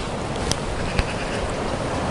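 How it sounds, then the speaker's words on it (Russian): Strong wind buffets an outdoor campsite where a portable camping wood-chip stove burns, a dense rushing roar across the microphone with a couple of sharp knocks, steady and loud throughout. "Ну, ветер сильный."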